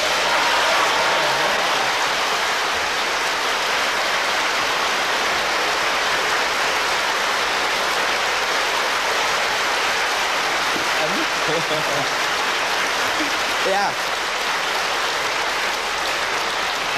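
Steady, dense applause from a large crowd fills the whole stretch without letting up, with a voice briefly audible over it.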